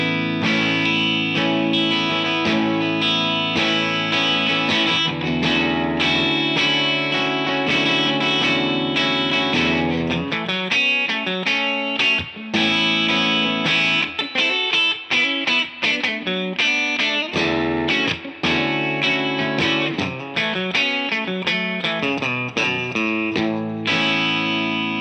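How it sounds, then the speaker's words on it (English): PRS McCarty 594 electric guitar played through a Two Rock Classic Reverb amp into a 2x12 cabinet, ringing sustained chords that give way to choppier strummed and picked phrases with light drive, alone and loud throughout. "this is my McCarty 594 PRS going into my Two Rock Classic Reverb"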